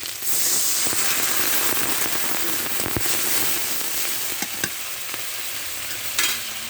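Chopped taro greens with their stalks hit a hot pan for a prawn curry and sizzle loudly and steadily, with scattered spatula clicks and crackles close by as they are stirred.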